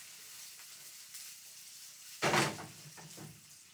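Food sautéing in a hot pan gives a steady low sizzle and hiss, rising into a louder burst of crackling spatter midway before settling back to a gentle frying sizzle, with no talk.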